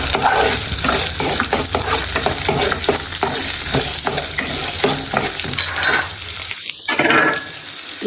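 Cumin and black pepper frying in a pan for goat leg soup: loud close crackling sizzle broken by repeated scraping stirs of a spoon, with a brief clatter near the end.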